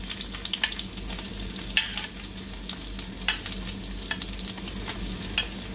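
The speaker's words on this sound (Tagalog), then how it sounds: "So, brown na yung bawang natin. Ilagay natin yung sibuyas." Onion goes into browned garlic frying in a pan, producing a soft, steady sizzle with scattered stirring clicks and scrapes, fairly quiet and without talk.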